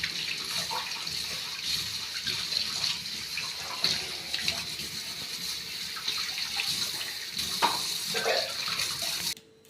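Vegetables rinsed thoroughly under a running tap give a steady rush of water with splashes and small knocks throughout, close and continuous, cutting off abruptly at the end.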